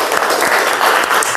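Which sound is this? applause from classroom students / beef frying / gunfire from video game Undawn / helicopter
applause from classroom students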